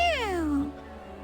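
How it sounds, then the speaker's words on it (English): A cat in the video game Duet Night Abyss lets out a single clear meow that slides downward in pitch, close and distinct over a faint background hum. "Meow."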